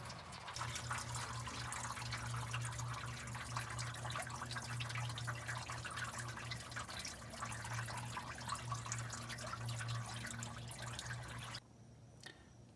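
Old antifreeze draining from a 350 Chevy C3 Corvette during water pump replacement, a steady trickling and splashing stream that runs for several seconds and then stops abruptly, quiet and alone.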